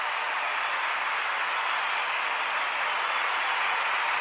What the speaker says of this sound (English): Where is my applause?